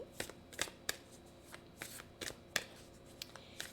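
Oracle cards are handled and shuffled close by, producing a quick irregular run of crisp papery riffles and slaps against a quiet room, with no voices.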